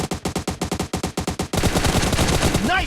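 Gunfire from the video game PUBG: a rapid burst of roughly a dozen evenly spaced automatic shots, loud and close, followed by a dense, sustained barrage of continuous fire with a brief rising whine near the end.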